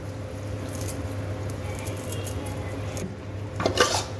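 Coriander leaves are stirred into tawa pulao in a pan, a soft continuous scraping and rustle under a steady hum, with a few louder clinks of utensil against the pan near the end.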